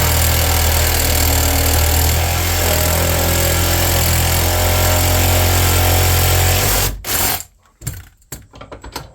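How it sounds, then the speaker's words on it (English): A Sawzall reciprocating saw cutting scrap metal, its loud, close, rapid buzzing running steadily for about seven seconds before cutting off into a few clattering knocks. "I kind of like the Sawzall for this stuff."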